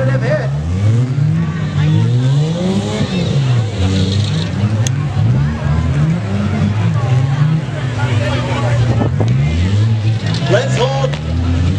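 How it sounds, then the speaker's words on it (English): Cars in a demolition derby at the Caledonia Fair rev and roar loudly, with engines surging and dropping constantly and several motors overlapping. "We got counts on all four cars, but they're all still going."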